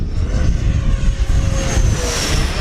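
A 105mm ducted-fan RC model of an L-39 jet (Aerofoam/Banana Hobby, 12s power) throttles up over a grass field. Its close, loud whine rises steadily in pitch over a rushing roar.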